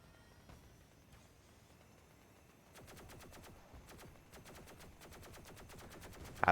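Rapid, sustained bursts of plasma minigun fire in a first-person shooter tournament match, starting midway and continuing in a steady chattering stream at moderate loudness with no voices.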